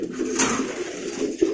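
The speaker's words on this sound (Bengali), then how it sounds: "এখানে হাজার হাজার কবুতর" Racing pigeons at a pigeon farm, with soft cooing up close and a dense murmur from the flock behind it.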